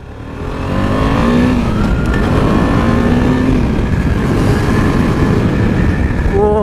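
A powerful motorbike accelerates hard during a road ride, its engine note climbing steadily and loud, up close and continuous from start to finish with no talk over it.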